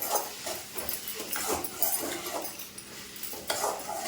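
A spatula scrapes and knocks rhythmically through salted brinjal and potato in a pan, repeated close stirring strokes with light metallic clinks.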